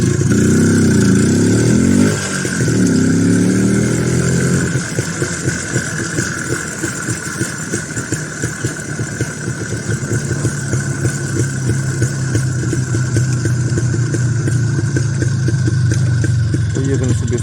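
An IZh Planeta 5 enduro motorcycle engine running as the rider heads home, a continuous loud mid-pitched drone with a brief throttle shift early on, then a steady ongoing engine note throughout.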